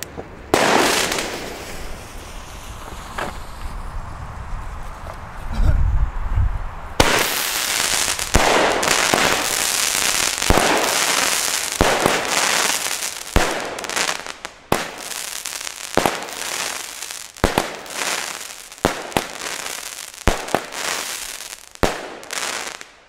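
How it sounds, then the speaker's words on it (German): Panda Crash firework battery being fired at a New Year's Eve celebration, a long run of loud booming launches and crackling bursts, dense and continuous, with sharp repeated reports overlapping near the listener. "Jetzt kommen wir auch hier schon zum Batteriefeuerwerk, würde ich sagen. Schieß mal einfach mal, weil es so schön ist, die Panda Crash."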